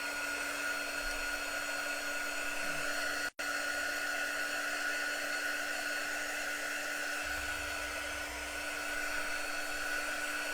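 A hair dryer blows steadily and loudly throughout, drying chalk paste on a craft project, a continuous whooshing hum with a brief cutout near the start and no talking.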